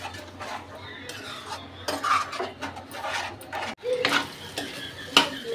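A utensil stirs and scrapes a potato and egg omelette seasoned with salt in a pan over a low flame. The clinks and scrapes are close and irregular, with a faint sizzle underneath and no talking.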